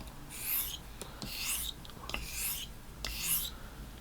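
A Solingen straight razor blade stroked across a hone to correct its edge, four evenly spaced hissing scrapes with faint clicks between, close and fairly quiet.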